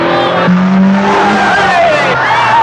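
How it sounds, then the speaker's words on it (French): Cars in a film chase through Paris with squealing tires and skidding, loud sustained shrieking tones and revving engines, close and dominant, with a voice heard underneath. "Il a vu Antoine Blondin se livrer à ce genre de corrida avec des voitures à Paris"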